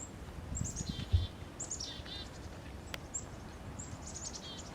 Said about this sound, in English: I heard the tink-tink of a flying purple finch